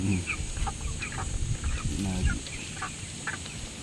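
Chickens being fed cluck and squawk repeatedly at close range, with scattered sharp calls over a busy farmyard background.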